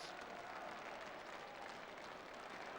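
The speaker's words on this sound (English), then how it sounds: "the Charlton team enjoying the moment by going over to milk the applause of the crowd" Football supporters applaud the Charlton Athletic players after a win over Birmingham City, a steady, dense wash of crowd clapping heard from a distance, fairly faint and continuous with no voices standing out.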